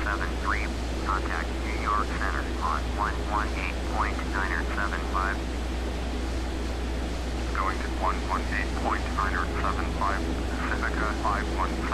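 Steady drone of a light airplane's engine in cruise on the downwind leg of the traffic pattern near runway 24, constant and close throughout, with a person talking over it in two long stretches.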